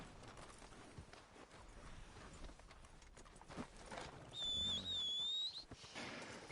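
Horse hooves clip-clop in Red Dead Redemption 2 Online. Fairly quiet hoofbeats go on with no talking, and a shrill whistle rises clearly above them for about a second near the end.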